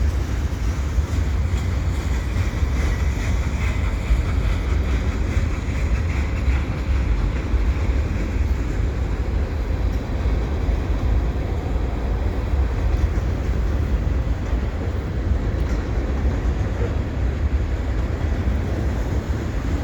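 A CP westbound mixed freight train rolls past at Dorval ramps during snowfall, a dense continuous low rumble of wheels and cars, loud and steady throughout, with wind noise on the microphone.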